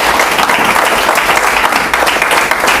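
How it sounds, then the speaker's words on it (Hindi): A loud, dense burst of applause from a large audience, many hands clapping together in a continuous roar with no speech over it. "सबके लिए जोरदार ताली बजा दीजिए।"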